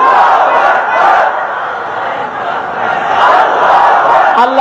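A large crowd chanting the Takbir slogan "Allahu Akbar" together, a loud, sustained roar of massed voices that swells and dips in waves and stays close and forceful throughout.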